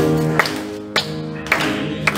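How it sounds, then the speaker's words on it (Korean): A church congregation at a Sunday worship service claps along during a hymn, four sharp, evenly spaced claps sounding over sustained organ or keyboard tones. "우리 함께 박수하면서 우리 믿음을 함께 고백하겠습니다."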